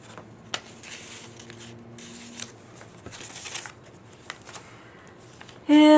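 Playing cards tucked into a handmade journal are handled and shuffled, giving soft papery flicks and light rustles that come in short scattered bursts, quiet and close, with a brief louder sound at the very end.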